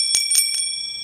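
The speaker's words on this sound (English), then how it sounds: "We have three bells." A bicycle bell rings three times in quick succession, bright metallic dings close up with short gaps, the last one fading into quiet.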